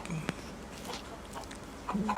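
Young roosters of Burmese fighting stock, penned under a woven cage on grass, cluck in soft, scattered calls at moderate distance, with brief gaps of quiet outdoor ambience between them.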